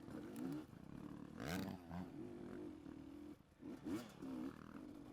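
Dirt bike engine lugging at partial throttle during a hare scramble race, a low uneven rumbling drone with choppy surges and brief throttle blips, heard close and fairly loud.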